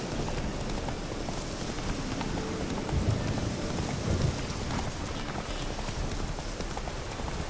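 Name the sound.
rain falling in a video game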